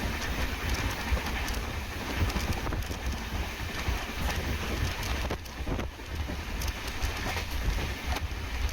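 A Karaikal to Tambaram express passenger train rumbles steadily along the tracks near Nannilam station, with continuous clattering and rolling noise, loud and close throughout, without pauses.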